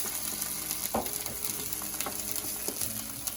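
Onions frying in a pan for a mushroom dish, a close, steady sizzle with a few soft scrapes of stirring.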